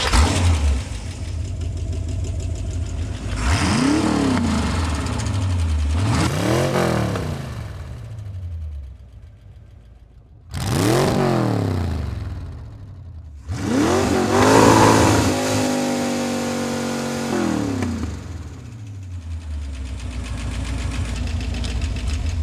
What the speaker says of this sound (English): we moved on to start, idles, and revs from various different perspectives